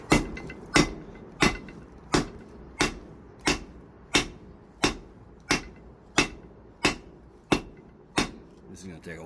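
A hammer strikes a piece of rebar being forged and tapered into a snake's tail, about a dozen sharp, ringing metallic blows at a steady rhythm, close and loud with no talk.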